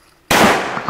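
A single sharp, loud shot from a Springfield .30-06 bolt-action rifle at a fun shoot, cracking in close and ringing off briefly.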